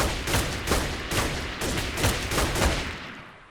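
Rapid gunfire from a gun mod in the video game Minecraft, with loud, close volleys of shots repeating in bursts about every half second, alone without talk.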